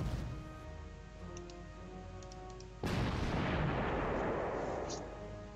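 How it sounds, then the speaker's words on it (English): Artillery fire in a WWII strategy game set at Poznan, a sudden loud boom partway through that swells into a long, broad rumbling roar under a steady game hum. "And the Grenadier comes in here and we say fire artillery."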